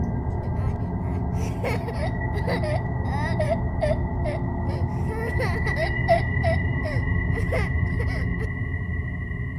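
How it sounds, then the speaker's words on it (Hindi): Faint, drawn-out crying whimpers rise and fall in short bursts in a deep basement, over a steady low rumble, with scattered sharp clicks throughout. "पर वो रोने की आवाज सचमुच आई थी।"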